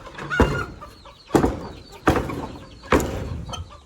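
Chickens cluck on a small farm: four sharp, separate calls at uneven intervals, close and fairly quiet, with little else between them.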